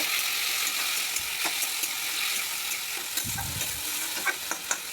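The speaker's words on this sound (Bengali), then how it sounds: "আলু দিয়ে ভালো করে নেড়ে নেব, তার মানে জল দিয়ে ভালো করে কষে নেব।" Fried potatoes are stirred into a spiced masala in a pan, making a steady close sizzle with scattered scraping clicks of the spoon and a few louder stirring knocks near the end.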